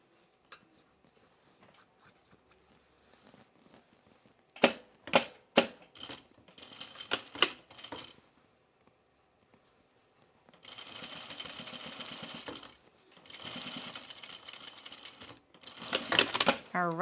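A sewing machine stitches a pullover camp dress in short bursts of rapid clatter, then longer steady runs separated by pauses, close by and fairly quiet.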